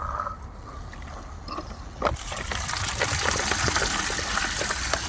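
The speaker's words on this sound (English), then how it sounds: "So bucket, pour water in" Water poured from a bucket into a washing machine drain pump running outdoors, a steady gush and splash that starts abruptly about two seconds in and continues loudly over the pump's low hum.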